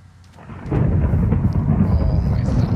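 Rolling thunder in a Minecraft world: a low rumble swells after about half a second and holds loud and sustained, with a soft rain hiss underneath and no talk.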